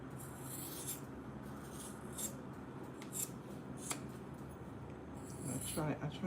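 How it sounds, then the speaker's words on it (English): Scissors cut sleeves for doll clothes, giving soft, close snips and fabric rustle scattered across the clip, with a voice talking underneath. "After this I'm gonna be cutting the sleeves."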